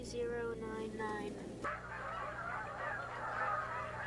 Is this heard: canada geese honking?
yes